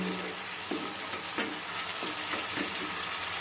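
Garlic and spices sautéing in oil for a pomfret fish curry, a dense, even sizzle with a few soft scrapes of a spoon stirring through the masala, close and steady, no voices.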